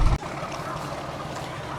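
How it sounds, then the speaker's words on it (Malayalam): A meter gauge train locomotive engine starts up on the Junagadh to Veraval line through Gir Forest: a brief heavy thump gives way to a steady, droning mechanical rumble that holds evenly throughout. "എൻജിൻ അവിടെ ഓണായി. സൗണ്ട് കേൾക്കാം."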